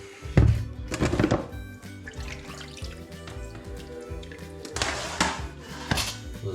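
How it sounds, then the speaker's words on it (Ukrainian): Several heavy knife chops on a board as pork is cut into pieces, spaced irregularly, with dripping water and kitchen clatter between them. "зараз нарізаю на шматочки."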